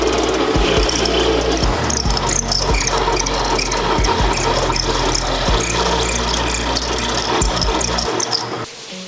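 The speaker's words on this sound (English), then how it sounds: "Try to use the drill bit to carve away a little bit at the side." A drill bit grinds a curved, tapered slot through a 4.5-inch piece of super dense ivory, a loud, continuous rasping whine broken by brief dips and surges as the bit bites and eases, with no talking.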